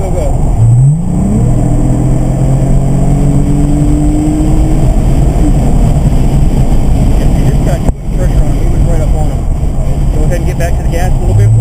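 A 2007 Lexus IS350 drifting around a track, its engine loud and close, rising in pitch as it revs, then holding a steady drone, with a sharp dip near the end before revving up again.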